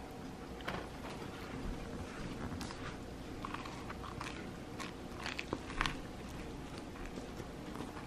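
An elderly man chewing a sardine salad sandwich, heard as faint, close, irregular bites and soft crunchy chewing over quiet room noise.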